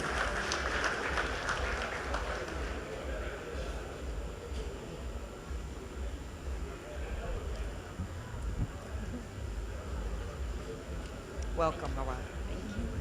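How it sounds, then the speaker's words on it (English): An audience at an anniversary gala dinner in Abuja claps to welcome a speaker. The applause is dense and moderately loud at first, then thins into scattered claps, and a voice speaks through the later part. "If your hands are free, please receive her with an applause tonight."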